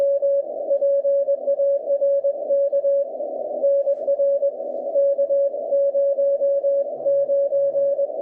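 Morse code CW on a ham radio from a park-to-park station, a steady single-pitched tone keyed in rapid dots and dashes, fairly loud over faint static under poor band conditions.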